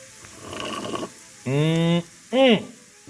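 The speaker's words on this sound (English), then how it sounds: "If you make a little bit of noise with coffee, it makes it taste better." A person slurps loudly from a cup, a noisy airy draw followed by two short gurgling, humming sips, close up.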